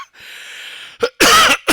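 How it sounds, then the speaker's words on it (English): A few harsh, loud coughs in quick succession, close up, following a brief hoarse exhale. "Man, I'm coughing now."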